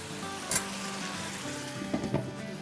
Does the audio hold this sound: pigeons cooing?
no